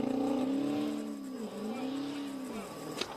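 A black Dodge Charger's engine revs up and pulls away in a steady, droning rise with a couple of dips in pitch, fairly close and loud.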